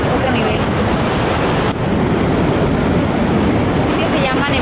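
Nevada Fall in Yosemite roars as a steady, loud, broadband rush of falling water, unbroken throughout, with no voices over it.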